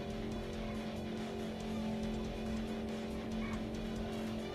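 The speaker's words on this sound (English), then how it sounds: "Now this is a real drift!" Car in the Crash Wheels kart-style racing game drifting, with a steady droning engine and a thin tire squeal running continuously under busy game sounds.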